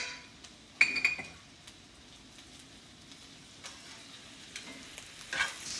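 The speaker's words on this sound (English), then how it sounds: "Mix that in really well." Brown sugar being mixed into a reduced sauce in a pan, quiet intermittent scraping strokes over a faint, steady low simmer.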